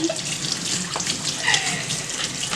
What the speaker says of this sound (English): always remember to wash your hands. Take the soap